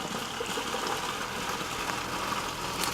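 Boiling water and cooked green beans poured from a pot into a colander in a home kitchen, a continuous rushing splash of water that stays fairly loud throughout.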